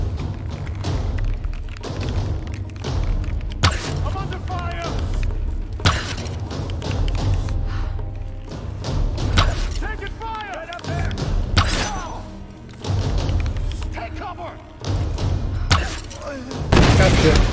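Explosion in Tomb Raider Definitive Edition amid a busy fight, with sharp thuds, bangs and shattering impacts scattered throughout under frequent talking, one heavier boom late on.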